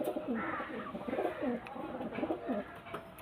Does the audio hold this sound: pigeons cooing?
yes